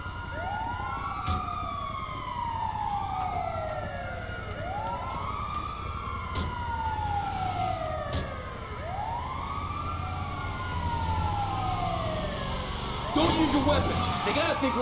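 Ambulance siren in GTA 5, a wailing tone sweeping up and down in repeated cycles, fairly prominent, with a sharper burst of noise near the end.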